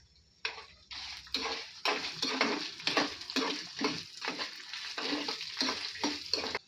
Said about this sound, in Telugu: మినప్పప్పును కూడా వేసేసి వేపుకోవాలి.